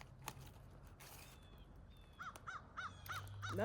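Outdoors in Cape Breton Highlands or Prince Edward Island, Canada, several crows give a run of short, evenly spaced caws in the second half, fairly close, over faint background noise and a low hum.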